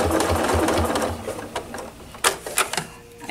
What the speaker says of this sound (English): if you use rulers, it's free motion quilting with a guide, and it creates some precision quilting.